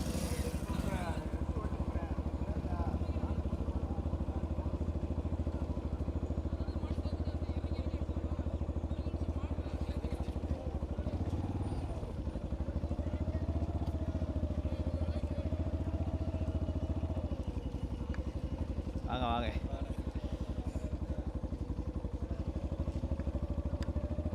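A motorcycle engine runs continuously at a steady idle, close and rumbling, with faint voices and a brief rise in revs near the end.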